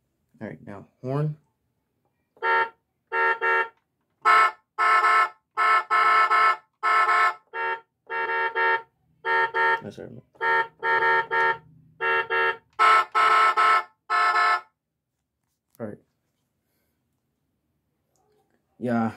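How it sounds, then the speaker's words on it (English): A car horn honks repeatedly in short, uneven blasts, some single and some in quick clusters, loud and close with brief pauses between. "Horn."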